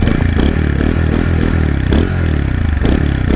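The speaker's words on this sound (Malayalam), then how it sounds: "അത്യാവശ്യം നല്ല ബാസോട് കൂടിയിട്ടുള്ള നല്ല കേൾക്കാൻ സുഖമുള്ള ഒരു സൗണ്ട് തന്നെയാണ് ഈ ഒരു ബൈക്കിൻ്റെ" A TVS Apache 160 4V BS6 motorcycle idles close by, its exhaust giving a deep, bassy, even thump with a rapid regular pulse and slight rises in revs, with no talking.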